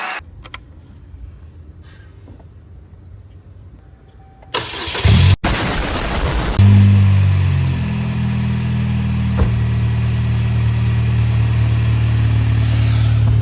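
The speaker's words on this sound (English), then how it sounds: "let's start the car" After quiet rustling, a starter cranks briefly, then the 2.2L Ecotec engine of a Chevy Cavalier catches and settles into a loud, steady idle close by, after an oil change.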